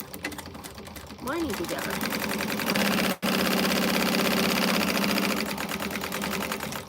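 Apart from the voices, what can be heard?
sewing machine stitching a bag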